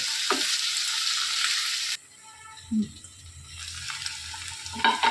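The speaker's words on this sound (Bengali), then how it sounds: "এবার এটাকে নাড়িয়ে চাড়িয়ে মিশিয়ে নিয়ে একটুখানি আবার ঢাকা দিয়ে সিমে রেখে দিতে হবে।" A potato, cauliflower and poppy seed curry stirred in a hot pan: a steady broadband sizzle for the first seconds, then quieter scraping and stirring with a faint simmer underneath.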